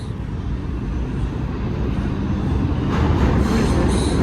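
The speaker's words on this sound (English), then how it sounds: "Oh my god, back to back trains." New York subway trains on the IRT Lexington line near Brooklyn Bridge–City Hall, a loud, close, continuous rumble of wheels on track that builds slightly, with a faint metallic squeal toward the end and no talking.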